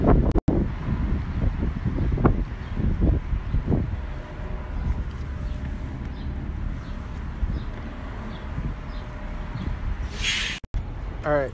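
Wind blows outdoors downtown in a city, a steady buffeting rush across the microphone with someone talking over it at first.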